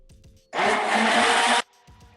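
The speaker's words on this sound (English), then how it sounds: "take your immersion blender or whatever blender you have and just give it a little" An immersion blender whirs into juice in one loud, steady burst of about a second, starting and stopping sharply, with quiet kitchen sounds before and after.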